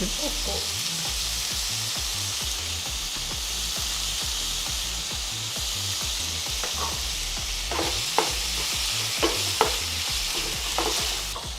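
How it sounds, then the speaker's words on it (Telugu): Mutton kidney fries in oil in a pan, a continuous close sizzle broken by rhythmic stirring scrapes and a few sharper clinks near the end. "ఇప్పుడు మూత పెడతాం అవి నూనెలో కొంచెం ఫ్రై కావాలా"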